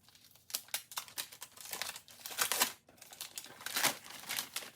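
Wrapping paper is torn and crumpled off a gift-wrapped book in a steady run of close, crinkly rustles and rips.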